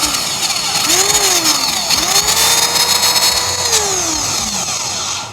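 A power sander works along a board, loud and close, its motor pitch repeatedly sagging and recovering under load, then winding down at the end.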